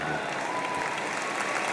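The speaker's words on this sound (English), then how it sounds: "Well, you can applaud Esther." A large audience at an AIPAC conference breaks into applause for Esther. The clapping is a thick, even wash of many hands, heard alone and steady throughout the short moment.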